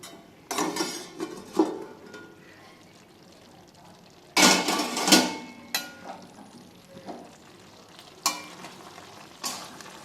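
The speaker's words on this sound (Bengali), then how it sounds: "এবার আমি ঢাকনাটা খুলে দেখব।" A metal lid is lifted off a pot of simmering Bengali shukto vegetables, with scattered clanks and scrapes of cookware between quieter stretches of low bubbling.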